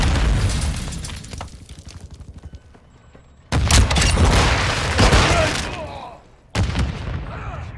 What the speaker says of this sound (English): Grenade! Get back!